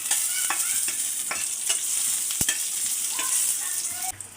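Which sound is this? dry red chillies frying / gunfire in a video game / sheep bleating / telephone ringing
dry red chillies frying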